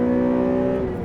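A Honda Civic Type R engine held high in the revs with VTEC engaged, a loud, steady droning whine from inside the cabin, sustained without a break and with no talking over it.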